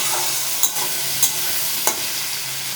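Tomatoes go into a pan of frying, softened onions and are stirred, a steady sizzle running throughout with three sharp scraping stir strokes spaced about half a second apart, close and fairly loud, no voices.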